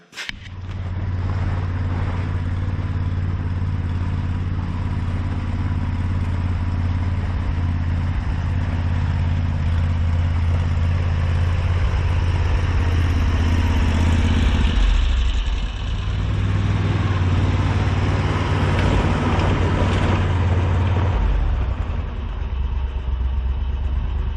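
An Argo Frontier six-wheel-drive utility vehicle with all wheels locked runs across a snowy lawn while gathering firewood, its engine a loud, steady close-up hum that dips briefly midway and then resumes, with no talk.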